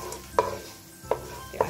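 Fried Korean-style chicken wings are stirred in sauce in a pan: three distinct scraping strokes spaced about a second apart over a faint, steady sizzle, with no talking.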